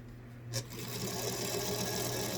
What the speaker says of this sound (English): I'm going to sew it with the ruffle up so I can manage to keep it out of the seam